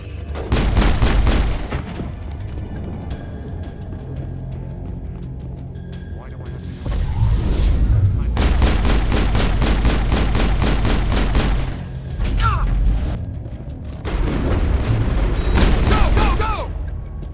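Gunfire crackles through a firefight in the Mass Effect-style game at a warehouse, with loud bursts of shots in several clusters and heavy booms, mixed with voices talking.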